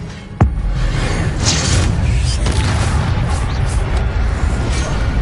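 Levioso spell cast in Hogwarts Legacy, a sharp crack followed by a loud rumbling, booming wash of magical effect sustained for several seconds.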